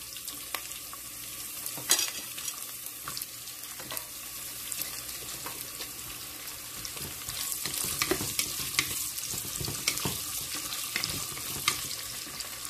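Onions and cashews frying in a pan make a steady, bright sizzle, broken by frequent sharp scraping and stirring clatters over roughly thirteen seconds, with no voices.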